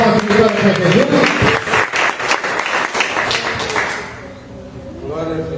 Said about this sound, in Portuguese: Vamos receber o pastor Daniel com palmas de glória para Jesus.